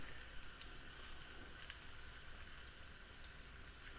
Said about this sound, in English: You hear that searing noise? That is a good sound.